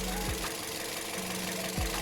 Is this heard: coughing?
no